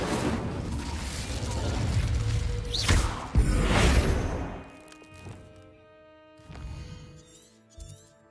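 Incendio fire spell cast in Hogwarts Legacy, a loud rushing whoosh and burst of flame that swells, then cracks sharply and fades into crackling embers and scattered mechanical thunks.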